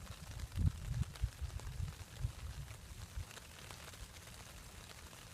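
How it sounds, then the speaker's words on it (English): Light rain pattering on a shelter roof overhead, irregular soft taps with a few heavier drops early on, no talking. "hearing the sound of the rain on the top. It's a patter of raindrops."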